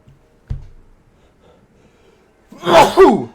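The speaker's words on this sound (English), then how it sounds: "That was a loud sneeze" A single loud, close sneeze bursts out after a brief quiet stretch, preceded by a small intake sound, from a commentator at a microphone.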